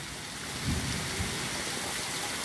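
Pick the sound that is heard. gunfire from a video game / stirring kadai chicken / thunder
thunder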